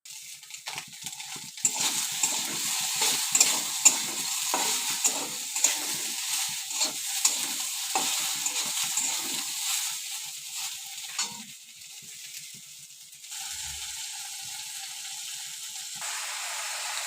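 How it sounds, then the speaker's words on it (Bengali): Soaked soybean chunks frying in oil in a wok, a bright steady sizzle with repeated scraping and clinking stirring strokes, close and loud, then a calmer hiss. "এখন কড়াইতে দিয়ে এগুলো কষে নেবো"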